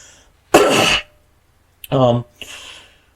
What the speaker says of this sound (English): I will try to edit that cough out. That was kind of loud.